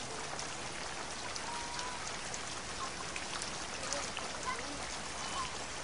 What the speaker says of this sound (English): During the monsoon season, the palm leaf thatch withstands the downpour.